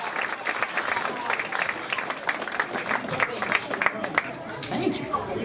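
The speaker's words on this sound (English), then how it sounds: "Give yourselves a round of applause" An audience applauds after a magic coloring book trick at a live magic show, steady clapping from many hands mixed with crowd murmur and some speech, fairly close and sustained throughout.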